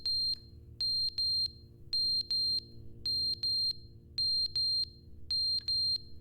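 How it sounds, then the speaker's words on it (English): A smoke detector in the game The Stanley Parable: Ultra Deluxe beeps in repeating sets of three piercing, evenly spaced tones over a low background hum, with no talking. "Smoke detector?"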